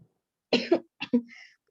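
A few short, rough coughs close by, two quick pairs separated by a brief pause, with no talking.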